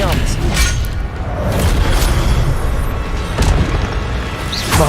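Expelliarmus spell cast in Hogwarts Legacy: dense, booming magical impacts and rumbling blasts fill the scene at a steady loud level, with a few sharper whooshing bursts, while a voice talks over the game sounds.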